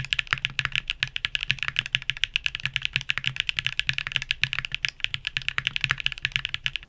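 Hall Effect magnetic keyboard switches typed steadily at a fast, even rhythm, each keystroke a crisp, close clack with nothing else behind it.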